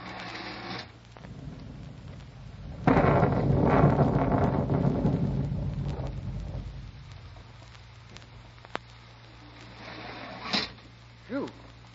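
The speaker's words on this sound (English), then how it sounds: "Some rain, huh? Ah, it's been going steady for three hours." A rainstorm sound effect for an old-time radio drama swells into a loud, rushing roar of rain with rumbling thunder, then slowly dies away, leaving faint scattered noises.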